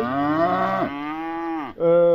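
A cow bellows in a field during calf weaning: loud, close, drawn-out moos in a continuous call that dips briefly before rising again, with no voices.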